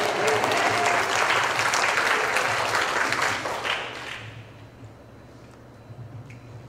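A church congregation claps for God during a dawn worship service at a Methodist ministers' retreat, a full, loud burst of applause that fades out over about four seconds, leaving quiet room tone.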